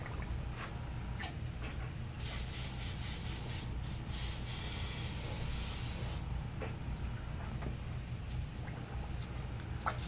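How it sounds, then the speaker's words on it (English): An airbrush being cleaned sprays in a loud, steady hissing burst lasting several seconds, with softer intermittent puffs before and after over a low background rumble. "Clean airbrush."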